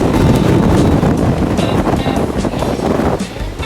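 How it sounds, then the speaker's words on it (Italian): Strong wind at a cape on the North Cape plateau buffets the microphone, producing loud, continuous roaring gusts that swell and dip over a few seconds, with no talking. "questo che si sente il rumore del vento qua sopra, una cosa pazzesca"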